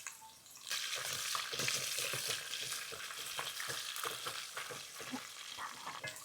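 Green chillies hit hot oil with ginger and garlic for a Kerala-style fish pickle, sizzling steadily with bright crackles and frequent spatters as the pan is stirred, close and continuous.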